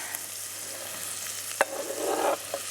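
Chopped vegetables and sweet potato sizzle in a hot pan for a coconut chickpea curry, with soft scraping stirs, a sharp clack of the utensil and a louder stirring swell near the end, with no talking.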